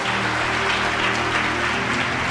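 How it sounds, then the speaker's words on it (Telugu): A congregation claps loudly together, a thick, continuous roar of hands close by, steady from start to finish with no talk on top. "గట్టిగా చప్పట్లు కొడదాం"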